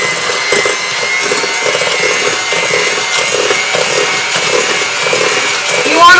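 An electric mixer creams butter for cupcakes, giving a steady whirring drone with a scraping, grinding texture that holds at an even loudness, close by and with no talk over it.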